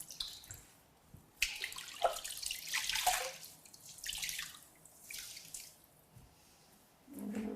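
Water runs from a lavatory sink faucet while legs and feet are rinsed, close splashing and trickling that rises and falls in uneven surges, no talking.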